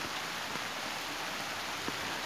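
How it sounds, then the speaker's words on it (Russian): Steady rain falls outdoors in a beekeeping yard, a constant soft hiss of drops with faint individual patters, fairly quiet and with no one talking. "Впервые за месяц пошел дождь"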